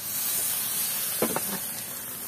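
Bele fish fries in a banana leaf with a soft, steady sizzle and hiss, broken by a couple of brief stirring or scraping clicks near the middle.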